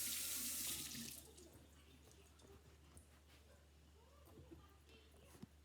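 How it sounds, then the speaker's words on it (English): Hands being washed under a running kitchen tap while shrimp kinilaw is prepared: a loud gush of water at first, then softer splashing and dripping. "So I'll just wash my hand."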